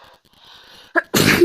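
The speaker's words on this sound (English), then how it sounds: "I need to sneeze." A person catches a quick breath, then lets out a single loud, close sneeze that bursts out abruptly at the end.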